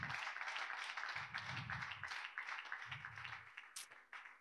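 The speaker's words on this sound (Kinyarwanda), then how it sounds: "Mukomere Imana amashyi" A church congregation claps in applause, a quiet, uneven patter of hands with fluctuating intensity, heard faintly from a distance in a reverberant room.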